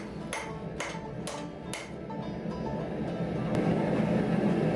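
A ball peen hammer strikes hot 5160 leaf spring steel four times in a quick, even sequence of sharp metallic blows, followed by a steady low background hum.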